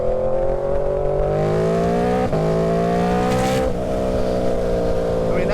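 Aprilia RSV4 motorcycle engine revving under load while riding, a loud, close, continuous harmonic drone rising steadily in pitch with two brief dips as the throttle eases, alone without speech.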